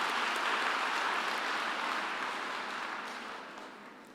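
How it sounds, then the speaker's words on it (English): Audience applause at a university graduation ceremony in Qwaqwa, a dense steady round of clapping from a large seated crowd that holds level and then slowly fades toward the end, with no talk over it. "I think we can give another round of applause to Dr."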